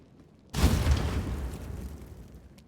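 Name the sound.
character exploding on a trap in Pathfinder WotR video game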